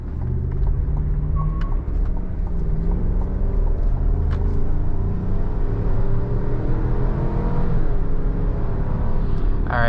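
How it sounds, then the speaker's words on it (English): A 2023 Chevrolet Suburban Premier SUV's engine revs under hard acceleration, heard from inside the cabin as a loud, continuous low rumble for the whole stretch. "you can definitely hear more of the engine when you gun it like that"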